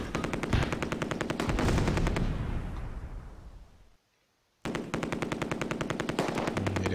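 Sustained machine gun fire in a World War II multiplayer shooter set at Oosterbeek, loud dense bursts with a brief silent gap in the middle before the rapid firing resumes.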